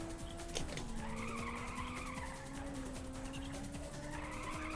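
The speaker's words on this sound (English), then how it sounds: "Stop drifting." Cars in the Ridge Racer racing video game drift with sustained, wavering tire squeals layered over engine drone, with a sharp impact near the start; the mix is fairly quiet overall.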